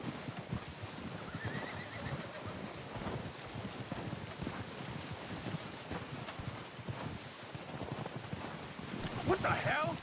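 A horse in the Red Dead Redemption 2 video game whinnies over blustery wind and background game noise, with a brief sharper neigh near the end; a voice talks intermittently.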